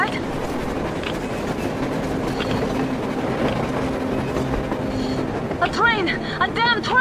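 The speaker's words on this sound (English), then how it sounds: "A train!" A train passing in the video game Metro Exodus, a steady rumbling rail roar throughout with squealing metallic wheel tones near the end, under voices talking.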